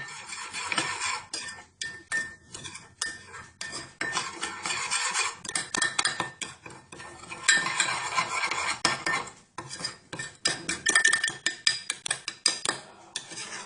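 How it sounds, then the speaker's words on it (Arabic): Metal spoon stirring cocoa powder into chocolate sauce in a mug, continuous scraping and clinking against the sides in uneven rhythmic bursts, close and fairly loud with no talk. "افضل اقلب بقى لغايه ما يبقى صوص شوكولاته"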